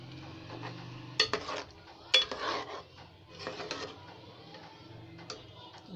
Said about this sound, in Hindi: इसको मिक्स करते हैं